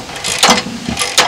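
A hand ratchet with a 9/16 socket loosens bolts on a camper trailer's tongue jack, making quick, close-up bursts of clicking from the pawl, in two short runs.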